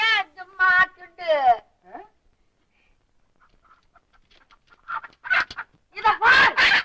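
A chicken clucks and squawks in short, sharp bursts, close by. Excited voices speak and shout around the bird, and a quiet gap falls in the middle.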